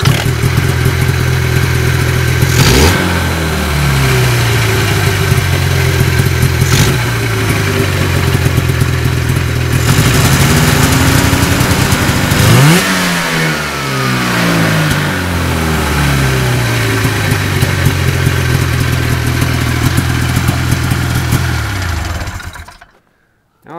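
A 1979 Ski-Doo Everest Electro snowmobile engine fires on the pull start and runs loud and close for about twenty seconds, revving up and down in repeated surges before cutting out abruptly.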